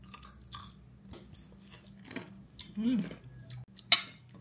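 Someone chews crunchy dried fish (tuyo) near the microphone, soft irregular crunches and mouth noises with a brief clatter of cutlery or dishes, fairly quiet.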